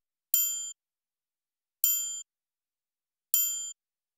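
Triangle percussion hit from a trap beat, three bright metallic dings evenly spaced about 1.5 seconds apart, each ringing briefly, crisp and alone.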